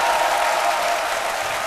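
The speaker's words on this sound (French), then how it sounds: "c'est sûr que vous allez doublement applaudir" Studio audience on an Ivorian midday TV show applauding steadily for a guest turning 70, a dense, even wash of clapping that holds at the same level throughout.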